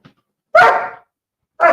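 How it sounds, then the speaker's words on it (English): A pet dog indoors barks twice, loud and close, each bark short and separated by silence, wanting to be let outside. "My dog wants out."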